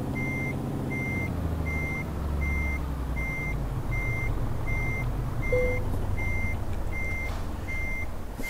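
Truck reversing beeper chirps in a regular, evenly spaced series over a low, rumbling diesel engine while a trailer is maneuvered in Euro Truck Simulator 2, steady and fairly close, with no talking.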